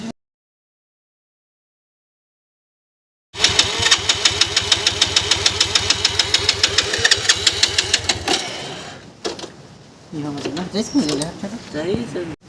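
Motorcycle engine running on mahua liquor fuel poured into the carburetor, starting abruptly and chugging with a steady rapid pulse for several seconds, then dropping away as someone talks over it.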